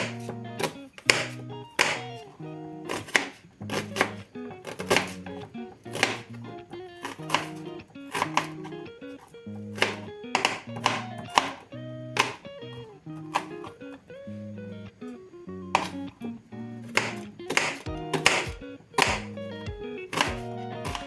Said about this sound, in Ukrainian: тепер потрібно нарізати цибулю і будемо смажити цибулю